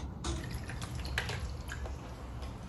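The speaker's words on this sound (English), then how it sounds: "Imagine this is a dam that will move water down, and with the water down, it moves this miniature turbine." Water flows down a small model dam and spins a miniature turbine, making a busy trickling and splashing with scattered drips and no voices.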